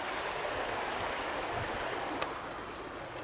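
The River Manifold flowing beside Ilam in the Peak District, a steady, close broadband rush of moving water that continues without a break and with no voices, plus one faint tick partway through.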